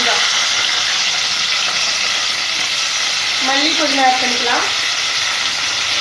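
Onions fry in hot oil in a pan for a chutney, producing a loud, steady sizzle and crackle throughout while someone speaks over it.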